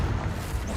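Confringo spell detonating in Hogwarts Legacy, a deep booming blast with heavy low-end rumble that fills the whole brief moment at a steady, forceful level.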